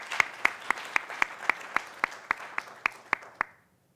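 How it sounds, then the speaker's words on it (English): An audience gives a slight round of applause at an oratorical contest, heard as about a dozen sharp, evenly spaced claps that stop abruptly after roughly three and a half seconds, close and clear with no voices. "So another just slight round of applause for everybody."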